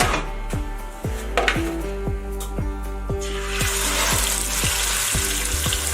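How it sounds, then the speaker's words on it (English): Loud, steady sizzling of roast meat searing in hot oil, with a few metallic clanks of a pan and utensils early on. "we're gonna sear the meat"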